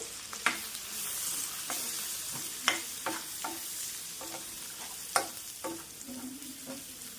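A spoon stirs a mix of chili powder, turmeric and salt in a pan for gongura chicken fry, giving a series of distinct scraping strokes over a steady soft sizzle, close and alone with no talk.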